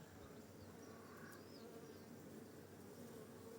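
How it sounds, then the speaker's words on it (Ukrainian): Honeybees buzz around a flowering Jupiter kishmish grapevine, a continuous soft droning hum of many insects heard faintly from nearby, with no talk. "Ви бачите? скільки бджіл."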